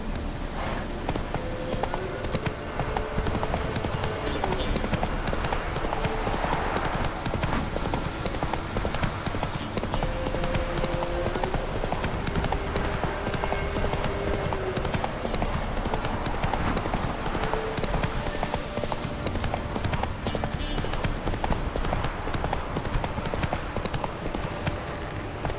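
Roach, a horse in The Witcher 3, gallops with a steady, rapid clip-clop of hooves throughout, mixed with game ambience and a faint tonal music line, with no clear talk.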